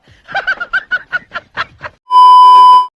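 A chicken clucks in a quick run of about nine short, close clucks, followed by a steady, sustained tone.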